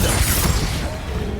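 Confringo blasting curse exploding in Hogwarts Legacy on Xbox Series X: a loud, heavy blast that opens with a rumbling boom and crackling debris, then fades into a rough roar.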